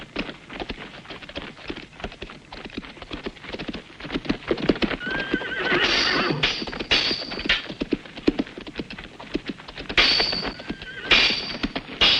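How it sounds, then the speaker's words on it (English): Horses in an ancient-world adventure film whinny repeatedly, and their hooves clip-clop and thud on the ground in a busy, uneven stream of close, moderately loud hoofbeats. "I'm untying the horses so Turno's men can't follow us."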